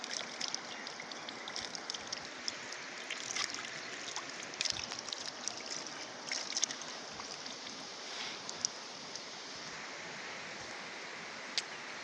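Clear jungle stream flowing steadily, a soft continuous rush and trickle of water with small splashes, close by and fairly quiet, no voices.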